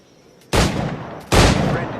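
Two loud firearm shots in Assassin's Creed 4, the first at about half a second and the second just under a second later, each a sharp broadband crack followed by a long ringing decay.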